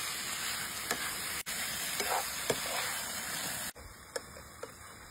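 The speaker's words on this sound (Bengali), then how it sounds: "প্রথম 5 মিনিট হাই ফ্লেমে মাংসটাকে কষাবেন" Yogurt-marinated chicken sears in a pan over a high flame, giving a steady close sizzle broken by a few soft clinks and stirs, with two brief dropouts along the way.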